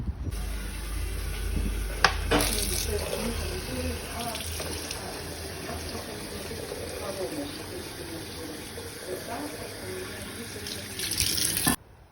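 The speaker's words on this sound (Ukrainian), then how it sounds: "Так, водичку ми набрали" Mineral healing water of the Naftusya type runs steadily from a spring tap at a spa into a container, a continuous close splashing flow with brief handling knocks near the start and end.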